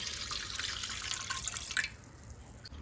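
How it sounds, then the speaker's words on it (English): Thin coconut milk pours steadily into a heavy-bottom pan while making Goan dodol, giving a soft, continuous splashing hiss that stops abruptly after about two seconds, leaving quiet room tone. "I have taken here a heavy bottom pan and I'm going to add in the thin coconut milk in it."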